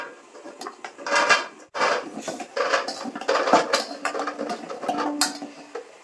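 Amla gooseberries placed one after another onto a perforated metal steaming plate, close clattering knocks and rolling taps in an irregular run, with scraping and rubbing between them.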